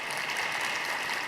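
An audience at a plenary session gives a short burst of steady applause, dense and fairly loud, with no voices over it.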